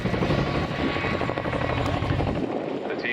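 Helicopter hovering at the RAF Cosford airshow while positioning an underslung load, its loud, steady rotor thump and engine roar filling the air continuously and close by.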